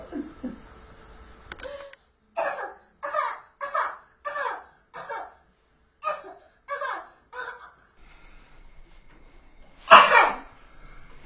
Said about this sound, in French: ta toux devient récalcitrante